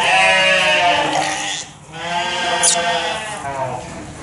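Baby lambs in a farm pen bleat loudly and close by, with one long wavering bleat, a brief pause, then more bleating.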